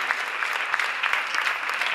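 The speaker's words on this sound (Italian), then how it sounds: "Un applauso per Isabella Cimino e complimenti." An audience claps at a dance school recital, a dense, steady burst of many hands applauding close by for a couple of seconds.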